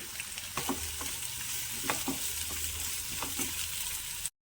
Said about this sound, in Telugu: పచ్చిమిర్చి ఒక రెండు తీసుకున్నాను ఉల్లిపాయ ముక్కలు వీటిని బాగా వేయించుకోవాలి